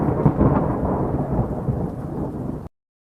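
A thunderstorm roars in with heavy, pounding rain and deep rumbling thunder, loud and dense throughout with no voices, then cuts off abruptly.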